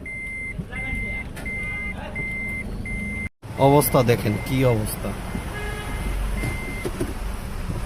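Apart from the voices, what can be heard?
car turning around in a flooded street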